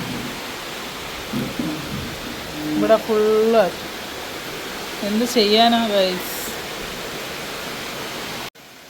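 Steady heavy rain falling on an evening in Kerala, a dense even hiss throughout with a few spoken words briefly rising over it before it cuts off at the end.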